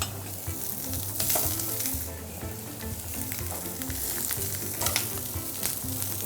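Dried pollack stir-frying in a pot gives a dense, steady sizzle with crackling and scraping stir strokes, loud and close throughout, with no talk.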